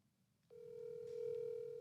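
A phone rings out while calling someone's mother, a steady electronic calling tone starting abruptly after a brief quiet moment and holding on, clear and fairly close.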